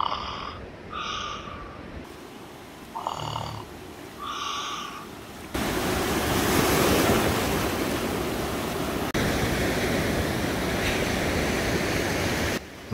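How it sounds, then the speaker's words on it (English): Ocean waves lap at Surfers Paradise beach on Queensland's Gold Coast. A steady, full wash of surf runs through the second half, following a few short tonal snorting sounds at the start. "Listen to those soothing, lapping waves."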